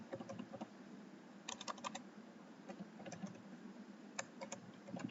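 Soft, rapid keystrokes on a computer keyboard, with irregular clusters of light clicks over a faint hum, quiet and close throughout.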